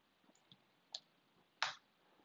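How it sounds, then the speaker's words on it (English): Up and down arrow keys pressed on a computer keyboard during an R and RStudio session: a few faint, sparse clicks, the last one the loudest, in a quiet room with no talking. "I can get back to the last command by using the up and down keys on your keyboard"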